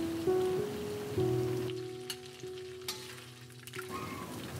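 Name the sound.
duck meat frying in a pan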